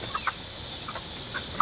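Chickens in a backyard coop, a flock of about twenty, give a few short, soft clucks and chirps, spaced apart over a low steady background hum.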